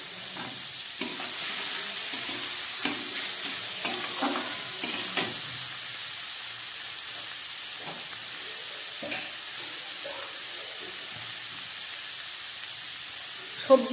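Mixed vegetables frying in oil in a pan, with a steady sizzling hiss and scattered stirring scrapes and knocks throughout, close and alone.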